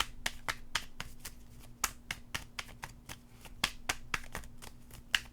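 A deck of tarot cards is shuffled by hand in a quiet room, with a fast irregular run of soft, close flicks and snaps over a faint steady hum and no talking.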